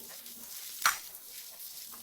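Carrot and onion sauté in butter in a frying pan, giving a quiet, steady sizzle with one brief clink of a utensil midway.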